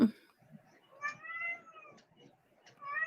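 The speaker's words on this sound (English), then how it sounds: "I hear a kitty." A cat meows faintly a couple of times, its drawn-out cries rising and falling against a quiet background.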